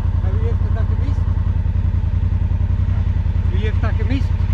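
A motorcycle engine runs steadily with a low pulsing throb throughout, while people talk over it.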